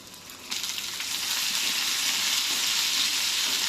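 Okra hits hot oil with a pinch of salt in a kadai and sets off a sudden sizzle that swells into a steady, loud frying hiss.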